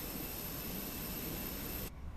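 A Boeing 737 MAX8 jet engine in a flight simulator game, a steady broadband roar that holds evenly and then cuts off abruptly near the end, with no voices.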